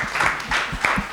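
An audience applauds an all-female panel at a gig economy session, a short burst of clapping with a few cheers rising and falling over about a second.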